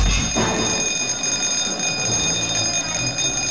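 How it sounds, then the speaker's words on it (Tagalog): A fire alarm rings continuously during an earthquake drill in the Makati business district, a steady high-pitched tone running throughout beneath a busy, noisy background. "Sa udyat ng fire alarm,"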